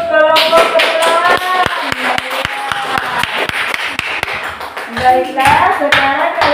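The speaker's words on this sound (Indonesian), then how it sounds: "Ayo tepuk tangan untuk kelompok kepulauan." Students in a classroom clap together in a burst of applause, with sharp rapid hand claps mixed with children's voices and a teacher speaking over them.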